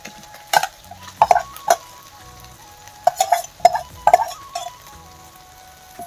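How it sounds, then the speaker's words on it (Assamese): Marinated chicken hitting hot oil with raw turmeric in a pan gives a steady sizzle, while a metal spoon clinks and scrapes against the pot in irregular bursts as the meat is stirred. "এতিয়া মই মেৰিনেট কৰি থৈছিলোঁ যে মাংসখিনি দি দিছোঁ।"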